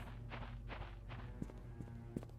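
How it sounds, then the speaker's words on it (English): Footsteps in the horror game The Painscreek Killings: soft, evenly paced steps over a steady low background hum, with a few sharper knocks near the end, faint and alone with no talk. "I heard my footsteps, but I thought I heard a second footstep happening at the same time."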